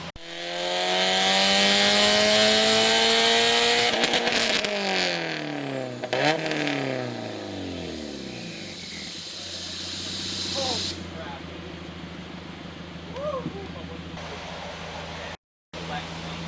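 A Subaru WRX STI on a dyno revs hard through a pull, its engine pitch climbing steadily and then falling away as the revs drop, with turbo hiss and whoosh, then quieter idle and brief talk.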